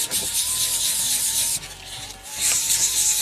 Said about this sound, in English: after coloring, I need to do the sanding